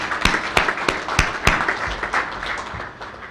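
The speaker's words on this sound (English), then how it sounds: "I want to give you all a round of applause." A small audience at a press conference introducing UIC women's basketball coach Tasha Pointer claps in a sparse round of applause, with several distinct sharp claps standing out over a softer steady patter.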